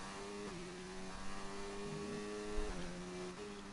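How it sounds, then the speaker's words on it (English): Race car engine in a racing video game at the Hungary circuit, droning steadily at a high pitch as it revs out through the gears, with brief dips at each shift; no one talks over it. "Really revving out the gears,"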